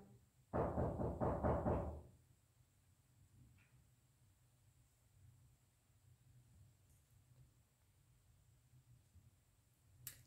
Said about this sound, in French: il y a quelqu'un qui frappe à la porte